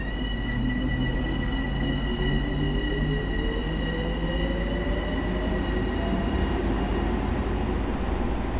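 A New Haven M8 electric commuter train in Train Sim World 2 accelerates from a platform, its traction motors whining in a slowly rising tone over steady rolling rumble, loud and continuous.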